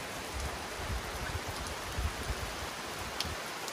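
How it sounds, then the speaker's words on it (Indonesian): Steady rain falls outdoors near a riverside rice field, a dense, even hiss with scattered heavier drops and patters, continuous and fairly close. "Juga lagi hujan."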